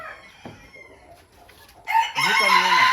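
Sultan breed chickens in a backyard setup: a rooster crows loudly and close, a long rising-falling call that dominates the second half, after quieter scattered clucks and soft farmyard sounds.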